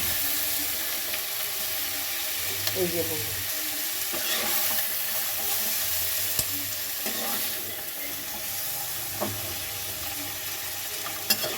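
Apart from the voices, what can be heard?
broccoli, capsicum and tomato frying and stirred in pan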